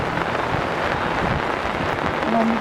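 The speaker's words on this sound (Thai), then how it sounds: "ลมแรงมากฝนก็ตกแบบมันก็ตกเรื่อยๆของมันอ่ะ" Heavy rain pours down steadily with a broad rushing hiss, strong wind gusting through it during a storm at a mountain campsite in Chonburi, Thailand, loud and close throughout.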